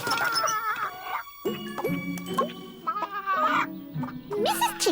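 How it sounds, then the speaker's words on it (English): A cartoon chicken clucks and squawks in a lively, bouncy series of pitched calls, with a musical jingle alongside, close and prominent. "Mrs. Chicken will watch over Babby while we're gone"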